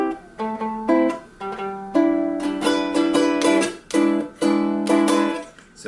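A ukulele plays the chord climb-down from a song, strummed chords stepping downward in a steady rhythm, close and clear with no voice.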